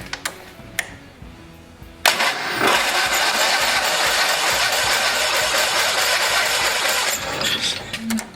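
An Onan engine on a vintage Case tractor cranks over without firing, a loud steady churning run lasting several seconds after a few clicks, then stopping.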